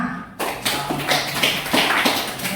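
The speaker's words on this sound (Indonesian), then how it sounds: "aplaus untuk semuanya" Students applaud in a classroom after group presentations, a burst of close, uneven clapping from a small group that continues for a couple of seconds with no talk.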